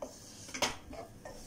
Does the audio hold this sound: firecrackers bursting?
no